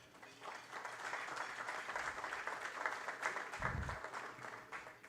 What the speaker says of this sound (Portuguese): Uma salva de palmas ao Wilson Ferreira Júnior.